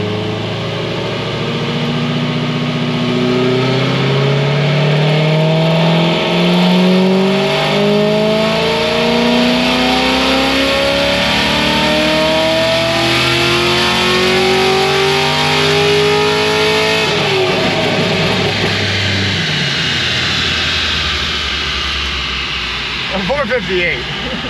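A Chevy 454 big-block V8 with a new cam revs loudly and close, climbing and falling in long sweeps before settling into a rough idle, with no talk over it.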